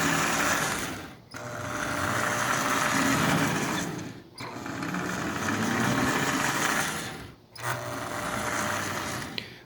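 Marx 490 toy train with a double reduction motor whirring steadily, close up, in three sustained runs broken by short dips, with no voices.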